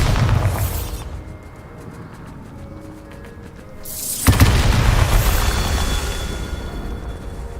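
Bombarda explosion spell cast in Hogwarts Legacy, a loud booming blast with a sharp onset followed by a sustained rumbling roar, preceded by an earlier whooshing burst.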